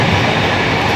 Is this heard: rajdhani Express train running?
yes